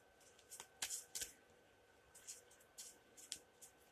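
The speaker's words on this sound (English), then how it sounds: "I'm going to shuffle these real quick." Tarot cards being shuffled by hand in short crisp riffling bursts, several quick flutters with brief pauses between, close and fairly quiet.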